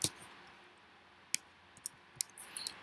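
A few isolated keystrokes on a computer keyboard while a command is typed: sharp, light clicks spaced irregularly, one at the start and a small cluster near the end, over quiet room hiss.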